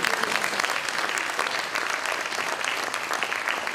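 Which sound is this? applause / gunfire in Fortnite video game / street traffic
applause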